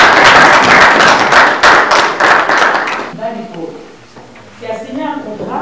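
Applause from an audience at an annual general assembly of a Congolese association in Ontario, a loud dense burst of clapping that fades after about three seconds, followed by a voice speaking.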